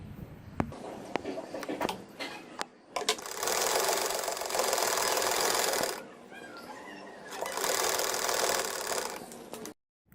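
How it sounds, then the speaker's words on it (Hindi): A sewing machine stitches the crotch seam of children's shorts in two sustained close runs of rapid mechanical whirring, separated by a brief pause, with scattered clicks and handling taps before, between and after. "अब इसके दूसरी साइड की सिलाई को करने लगी हूँ म्यानी की।"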